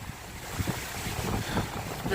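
Wind gusting through a partly cut-down woodland on a blustery day, a steady broadband rush buffeting the microphone, with low rumbling gusts rising and falling throughout.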